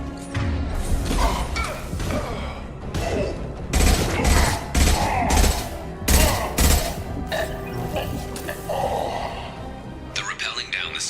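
Rifle fire in the Mass Effect 2 Legendary Edition video game: repeated loud, sharp bursts of shots in quick clusters, mixed with thuds and other game combat noise.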